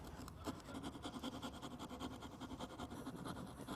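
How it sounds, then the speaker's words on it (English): A sharp circular rasp shapes a wooden quatrefoil in quick, repeated rasping strokes, a quiet, rhythmic scraping heard close up with no talk. "this is a circular, very sharp rasp, and I just start evening out"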